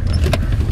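An electric car window lowers in a brief motor whir over a steady low engine idle inside the vehicle, short and close.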